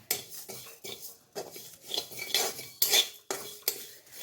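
Five-spice and a dried red chilli stirred in a hot pan while frying for a tangy pickle; a metal spatula scrapes and clinks against the pan in repeated, rhythmic strokes, close and moderately loud, with no talk.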